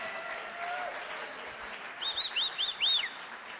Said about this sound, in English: Clap it up for Ronnie